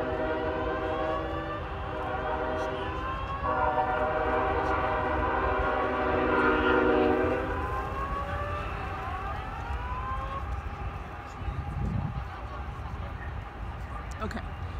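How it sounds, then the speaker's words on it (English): A train rumbles past with a long, loud horn blast sounding over the steady roar of the rail cars, near a pet food production plant in Topeka. "Train to pass"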